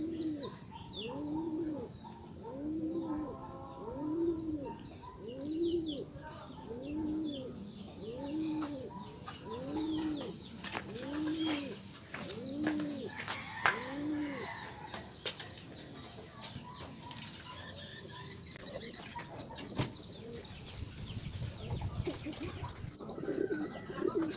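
Pigeons coo in a steady, repeating rhythm at a racing-pigeon loading point during a grand pooling race for young birds. The coos come close and clear through the first half, then give way to rustling and flapping among the birds.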